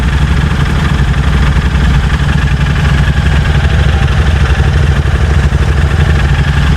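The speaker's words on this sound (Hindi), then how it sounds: "दोनों बाइक स्टार्ट हो गई।" Two Royal Enfield Interceptor 650 motorcycles idling after a cold start in snowy conditions, a steady, loud, close engine rumble with an even throb throughout.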